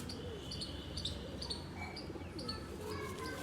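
Purebred pigeons coo softly in a quiet space, with repeated low murmuring calls and a few faint chirps, all at low level and without talk over them.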